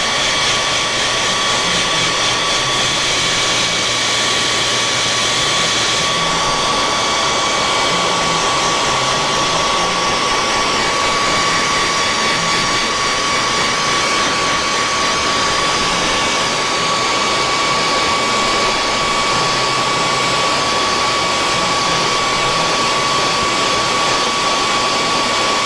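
A hair dryer blows continuously and loudly at close range with a steady whooshing roar and a faint high whine, drying paint on a fishing bait without pause.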